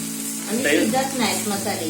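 Diced vegetables and spices sizzle in hot oil as a spatula stirs them, a bright close crackle that surges in two bursts over a soft steady hiss, with no talking.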